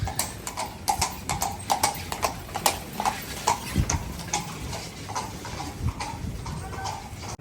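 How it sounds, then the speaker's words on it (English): Horse hooves clip-clop on pavement in a steady walking rhythm, close by, with faint street ambience behind, in Bruges or Ghent, Belgium. "Here comes a horse."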